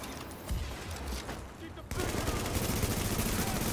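Sustained automatic gunfire from The Division, a dense burst of rapid shots that grows louder and more continuous after a brief lull, with players talking over it.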